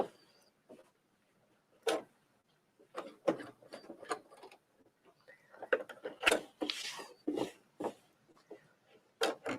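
Domestic sewing machine stitching slowly, giving short separate mechanical clicks and whirs in uneven bursts, close and fairly quiet, with no talking.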